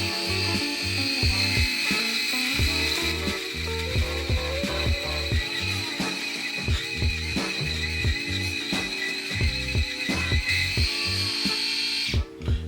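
A Sejoy Mocha S electric shaver runs loudly and close during a shave test, its steady motor whine overlaid with rapid rough buzzing and crackling as it cuts through facial hair.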